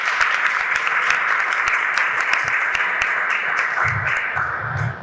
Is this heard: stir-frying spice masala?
no